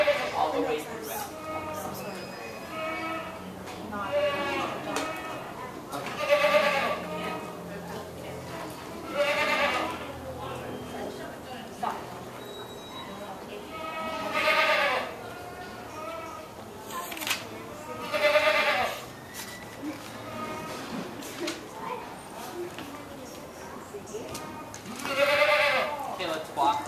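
Dairy goats at a goat show bleat repeatedly over a steady crowd murmur, the calls rising in loud bursts every few seconds while someone talks through much of it.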